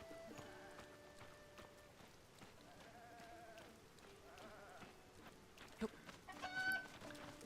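A Cucco chicken in Zelda: Tears of the Kingdom clucks in short, scattered bursts against a busy game backdrop of other chirps and effects, growing louder near the end as the bird is caught.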